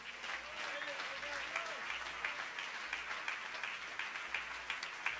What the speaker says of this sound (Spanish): Él se merece un aplauso